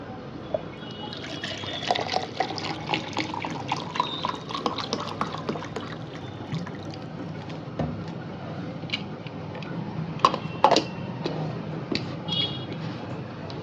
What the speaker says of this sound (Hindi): थोड़ा ठंडा पानी पी लेते हैं।